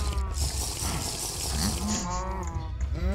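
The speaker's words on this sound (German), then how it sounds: "Und die muhen auch immer, wenn ich an den Euter will und da kommt nichts mehr, dann muhen die auch." Cows moo in the Minecraft video game as they are milked in the woods, giving several drawn-out, wavering low calls that overlap each other in steady succession against continuous background noise.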